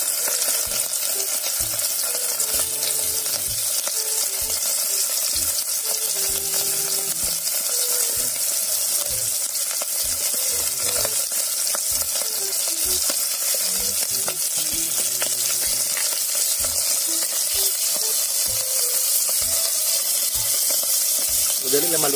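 Dried putput fish sizzles in hot oil while cooking Utan Bisaya outdoors, a loud steady frying hiss with repeated soft stirring scrapes.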